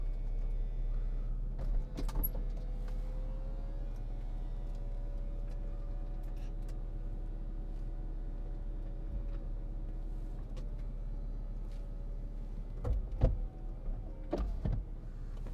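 The electric folding hardtop of a 2006 Mercedes-Benz SLK280 lowers in one long, smooth motor whine inside the parked car, with a few clicks and clunks as the panels latch at the end.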